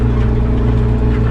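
Tractor engine pulling a disc harrow across a field, running at about 1250-1300 rpm, gives a steady, loud mechanical drone with an even low hum that holds unchanged throughout.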